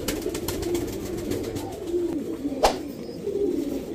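A female pigeon coos softly in a low, repeated rhythm, close by, with a few sharp clicks and light rustling in between.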